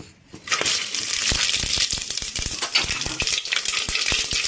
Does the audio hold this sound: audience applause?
no